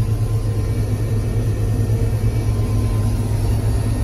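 Peanut combine engine running, heard from inside the operator's cab: a steady, loud low rumble and drone with constant hum, no breaks, no voices.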